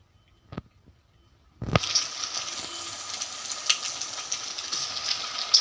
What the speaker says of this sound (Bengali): এবার একটা একটা করে ভাজবো